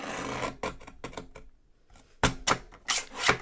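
Blue card stock is trimmed with a paper trimmer in bursts of rasping, sliding cuts. A short quiet pause falls between the first cuts and the louder final strokes, all close with no talking.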